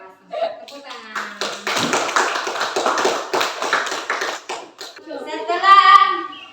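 A school class claps hands together in a burst of quick, close clapping lasting about three seconds, with children's voices and a teacher speaking before and after it.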